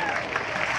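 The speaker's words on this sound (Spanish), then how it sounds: "Repetimos el aplauso para esta chica que vinieron desde Monte Carlo." Brief burst of audience applause at a dance marathon event in Posadas, a dense wash of clapping lasting under a second at a fairly even level.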